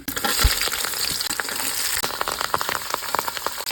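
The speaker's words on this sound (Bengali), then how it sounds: "সুন্দর মতো নেড়ে নিচ্ছি পেঁয়াজ কুচি মরিচ কুচি ও পেঁয়াজের লাল কুচি আছে" Chopped onion and chili sizzle and crackle in hot oil in a pan, stirred with scraping clicks, a steady close frying hiss throughout.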